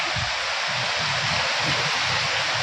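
Heavy rainwater rushes into a house in a loud, steady broadband roar, continuous and close with no pauses.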